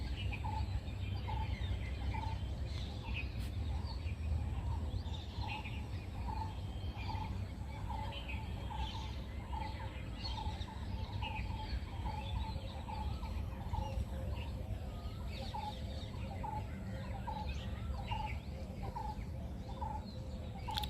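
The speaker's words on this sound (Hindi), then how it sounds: "यहाँ बैठकर पंछियों की बातें सुनने में भी बहुत आनंद आता" Birds call in the morning at Sarnath, a dense, steady chorus of chirps and repeated short calls with rooster-like and clucking fowl voices mixed in, continuous throughout over a low background rumble.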